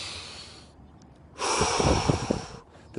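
A single slow breath, a quiet inhale followed by a louder, rushing exhale close to the microphone, with no talking.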